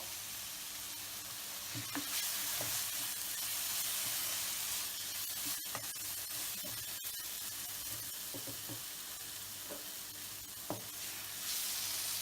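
Beef sizzles steadily in a hot pan as it roasts for a Kerala-style beef and raw banana curry, a continuous close frying hiss with occasional soft stirring clicks, no voices.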